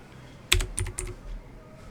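Several quick keystrokes on a computer keyboard, a short burst of about five clicks close to the mic, quiet and isolated.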